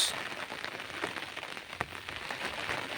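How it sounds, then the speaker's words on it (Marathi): Steady rain patters on a surface, a dense even hiss with scattered louder drops, no voices. "हा पाऊस"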